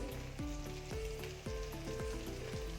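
Whole and ground spices, including green chillies, garam masala, bay leaf, chilli and turmeric powder, fry in oil for chicken curry with a soft, continuous sizzle and gentle stirring sounds, quiet and near.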